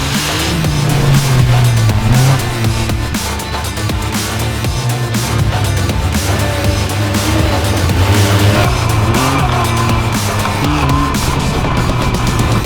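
A Yamaha 4x4 buggy with over 100 hp and a three-cylinder engine slides sideways, its engine roaring steadily under load with constant revving and tire scrubbing that stays loud and close for the whole stretch.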